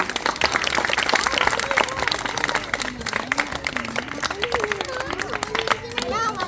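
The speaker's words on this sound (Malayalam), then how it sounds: "എല്ലാവരും ഒന്ന് കൈയടിക്കാം" An audience claps together in a dense, sustained burst of applause, with a voice talking over it throughout.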